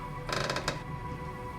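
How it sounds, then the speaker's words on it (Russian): In the horror game Tiny Bunny, a door creaks open with a short, faint run of grinding mechanical squeaks lasting about half a second, set against a low, steady ambient drone. "Дверь распахнулась."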